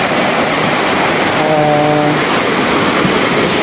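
Steady, loud rush of a large flooded river fills the whole clip, a broad roaring wash with a brief faint tonal hum partway through.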